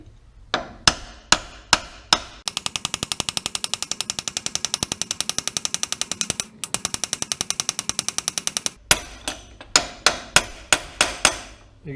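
A hammer strikes metal in loud, close blows: a few single hits, then a long fast rattling burst of rebounding impacts, then more separate strikes at a steady rhythm.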